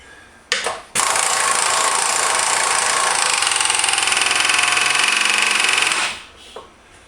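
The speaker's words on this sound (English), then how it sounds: "power draw bars are noisy" Power draw bar on a milling machine running in a toolholder setup: a loud, steady pneumatic-motor whine and rattle lasting about five seconds, with a couple of short bursts before it starts and a brief tail after.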